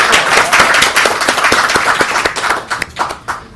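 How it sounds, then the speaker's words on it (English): An audience claps at an evening reading in a club, a steady burst of many hands close and loud, thinning out toward the end. "I thought you can clap."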